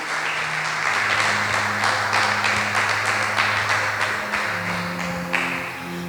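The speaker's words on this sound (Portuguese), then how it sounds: "As palmas para o Senhor." A church congregation claps together after a sermon, with dense, steady applause close by that fills the room for several seconds while a low sustained organ or keyboard tone plays underneath.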